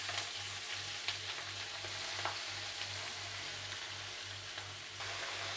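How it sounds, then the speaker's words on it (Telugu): Amaranth leaves (thotakura) fry in a pan with a steady, continuous sizzle and occasional stirring scrapes, close and even in level throughout, with a low rhythmic hum running underneath. "ఇప్పుడైతే మనం ఆకుకూర అంతా ఇందులోకి వేసేసుకుందాం"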